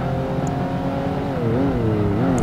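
A Noble racing car engine in Project Gotham Racing 2 roars steadily at high revs, pitch wavering and climbing as it shifts, loud and close with no talking.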